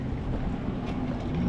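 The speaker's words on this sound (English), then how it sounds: "when I get onto the trailer, you'll hear me just tap the throttle a little bit" A Sea-Doo GTX-230 personal watercraft gets a brief tap of throttle as it drives up onto its trailer: a low, steady engine rumble close by, mixed with wind buffeting the microphone.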